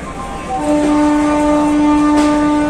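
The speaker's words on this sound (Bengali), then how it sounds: "হাওড়া স্টেশনে আমার ট্রেন ঢুকছে, শিপ্রা এক্সপ্রেস।" The Shipra Express pulls into Howrah station, its loud sustained horn sounding close over a rumbling, noisy platform background.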